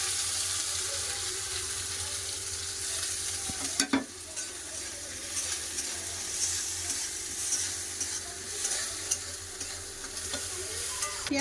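Chopped onions sizzle steadily in a hot pan with spices and a dried red chilli, with occasional scraping knocks from stirring.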